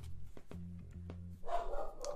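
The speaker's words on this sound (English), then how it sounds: "there are the dogs in the background" Dogs bark in the background: a quick series of about six distinct barks, fairly loud and close together, followed by a brief noisy scuffle.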